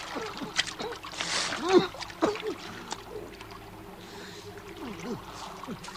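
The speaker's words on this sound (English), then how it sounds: "He was nearly across when he missed his footing on a round stone and fell into the cold water." Water splashes and sloshes close by as someone slips on a round stone and falls into cold water, with a heavier splash in the middle and smaller watery movements around it.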